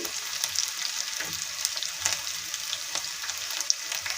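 Green chillies and onion sizzle in hot oil for kande pohe, a soft, steady crackle close by with faint scattered pops and light spatula touches.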